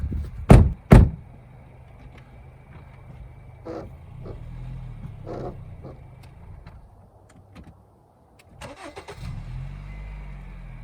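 A Ford truck's engine revs in a low, steady rumble while its wheels spin on Hopkins Subzero Griptrax traction boards, with a few sharp knocks and clunks early on and a brief lull before another burst of effort.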